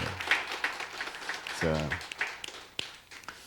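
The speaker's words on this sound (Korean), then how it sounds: "한번 박수 한번 보냅니다" A church congregation claps during a New Year's Eve service, giving a brief scattered round of applause mixed with a few louder single claps, while a voice speaks over part of it.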